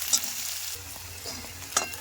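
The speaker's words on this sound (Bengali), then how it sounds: "সব পেঁয়াজগুলো দিয়ে দিলাম। পেঁয়াজ ভাজা ভাজা করবো।" Onions and garlic fry in fish oil in a pan, a soft continuous sizzle with a few sharper scraping stirs near the start and end, close and moderately quiet, no talking.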